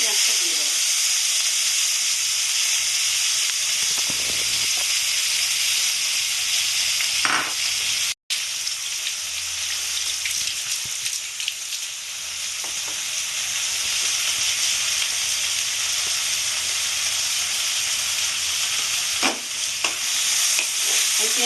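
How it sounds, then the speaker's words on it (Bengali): Onions frying in oil in a wok, with a steady, close sizzle and occasional stirring scrapes throughout, no talking. "আমার পেঁয়াজটা মোটামুটি ভাজা হয়েছে"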